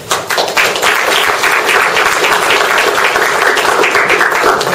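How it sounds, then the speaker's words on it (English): Audience at a seminar applauding, a dense, loud and steady wash of many hands clapping that continues evenly to the end. "Please give him a really big warm round of applause"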